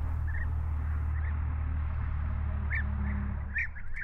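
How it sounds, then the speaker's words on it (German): European bee-eater chicks in a nest at Königschaffhausen give a scattering of short, high chirps, some in quick clusters, over a steady low background hum. "Deutlich kann man das Gezwitscher der Jungvögel hören."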